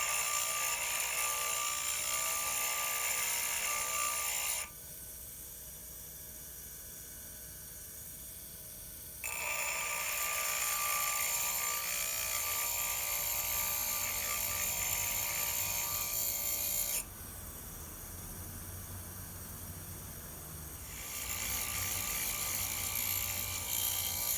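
Forged metal tongs pressed against a grinder wheel in a smithing shop, a steady high rasping grind running in long stretches, with the tone dropping during two breaks as the piece is lifted off the wheel.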